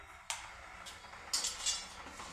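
A spoon stirs salt into a pot of water just coming to a boil, giving a few quiet metallic clinks and scrapes against the pot with soft gaps between them.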